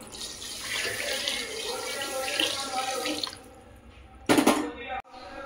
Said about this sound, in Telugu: దీంతో 2 గిన్నెలు నీళ్ళు పోస్తున్నాను.